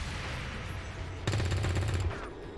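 Automatic gunfire in the turn-based video game XCOM 2, a rapid burst of evenly spaced loud shots lasting under a second, rising abruptly above low ambient game noise.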